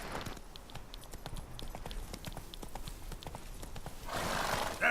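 Geralt's horse Roach in The Witcher 3 video game walks with steady clip-clop hoofbeats, then lets out a loud neigh near the end.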